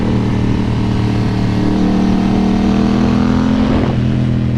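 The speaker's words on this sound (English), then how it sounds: "This bike sounds awesome as well." A 2024 Yamaha R7 parallel-twin sport bike at a loud, steady, close engine drone with a low even hum that shifts slightly in pitch near the end, and no talking.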